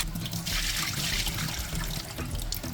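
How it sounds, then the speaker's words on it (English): Raw chicken pieces being rinsed in a sink with vinegar and water, a steady close splash and trickle of running water, sloshing continuously without any talking. "I like to wash my meat with vinegar. Give them a good wash."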